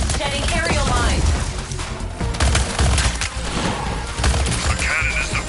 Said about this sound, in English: Cannons shedding aerial mines!